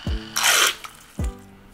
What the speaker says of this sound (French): Donc j'ai mis un peu d'eau, je vais le mélanger à nouveau.